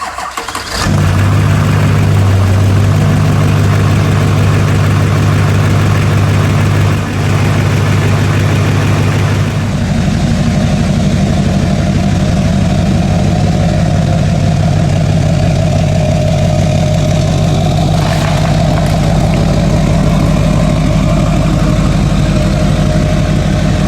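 A vehicle engine cranks and catches, then settles into a loud, steady idle close by with a constant low rumble and some rising belt whine, no talk over it.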